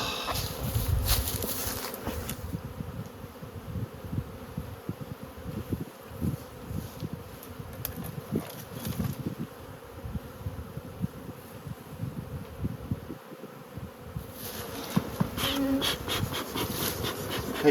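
Bees swarm and hum around a beehive being carried to a trailer in November: a dense, continuous buzz that stays steady and close throughout, with no talking.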